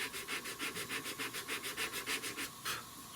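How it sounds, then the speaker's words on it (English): Sanding with 100-grit paper on a straight-edge block across the grain of wood, a steady near rasping scrub repeating in quick even strokes of about four per second. "Sanding cross grain"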